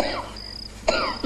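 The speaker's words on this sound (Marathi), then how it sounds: "तुपल्याला खोकला येतो" A single sharp cough bursts out close by near the end, with a faint high insect chirp running steadily through the quiet background.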